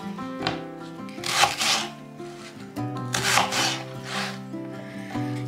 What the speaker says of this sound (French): J'épluche tout d'abord mes carottes, mes pommes de terre et un oignon. Je les coupe grossièrement.